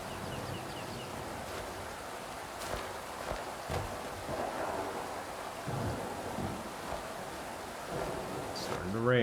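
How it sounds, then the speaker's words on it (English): Rain hisses steadily through the dark world of the video game Inmost, with low rumbles of thunder rolling underneath, faint and continuous, with a few brief thumps along the way. "It's starting to rain."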